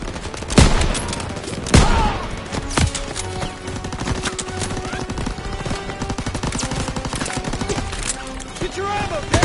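Rapid machine gun fire in a World War II battle, a dense continuous rattle of shots with a few louder booming impacts early on, close and loud throughout.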